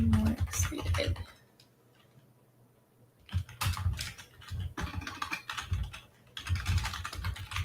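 Fast clicking on a computer keyboard comes in busy bursts, stopping for about two seconds in the middle before resuming, close and fairly quiet.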